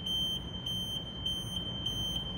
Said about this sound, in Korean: 비상정지 버튼을 누르면 경고 알람과 함께 모든 작동이 정지하게 됩니다